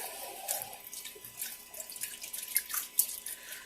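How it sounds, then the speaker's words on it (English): Tap water runs over purslane stems being rinsed in a sink, a steady soft splashing with brief drips and sharper splashes as each stem passes under the stream, no voices. "grab another stem, put it under the water"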